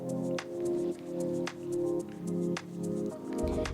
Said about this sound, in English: Now gently add this cooked rice dal mixture into the kadai of masala and vegetables